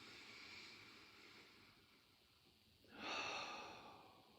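A slow, soft breath drifts in and out, followed by a fuller, louder exhale near the end, close and quiet against a faint steady hiss, with no talking during a meditation session.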